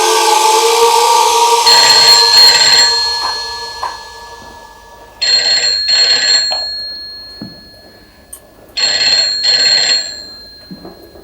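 A telephone rings in a Hindi TV drama scene, loud electronic ringing bursts repeating in a pattern with short pauses between them, with a quieter interval in the middle.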